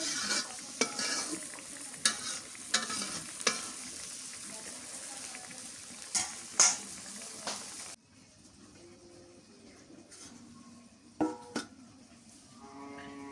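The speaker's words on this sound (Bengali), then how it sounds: "মাছগুলো ভালো করে কষান করে নি" Spiced fish, stinging catfish, searing in hot oil with onion while being stirred, a steady sizzle broken by sharp scraping stirs that drops to a quieter simmer partway through.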